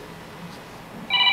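A Huawei Watch Fit 2 smartwatch starts a tonal incoming-call ring near the end, short and fairly close against a quiet background.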